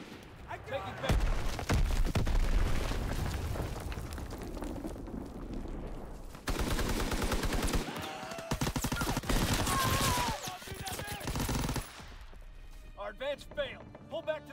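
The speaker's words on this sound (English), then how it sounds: "Enemy bomb incoming" An enemy bomb goes off in a military video game, one of several loud booms and bursts of gunfire in a busy battle scene, with radio-style voice callouts heard between them.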